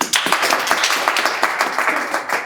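A room of people clapping for a speaker at a career talk, brisk, dense handclaps close by that continue steadily for a couple of seconds.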